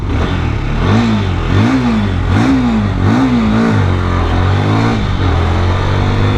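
A Hero Xtreme 125R motorcycle engine revved up close and loud, rising and falling about five times in quick succession before settling into a steady idle.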